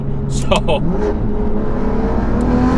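A Varis widebody BMW M4 revs and shifts gears aggressively, its engine note rising and dropping with quick gear changes, heard from inside the car under a man's brief speech.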